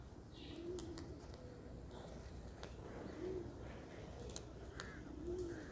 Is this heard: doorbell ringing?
no